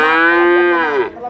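A single drawn-out cow moo from cattle at a livestock market, loud and close, holding steady before dropping off at the end, with no talk over it.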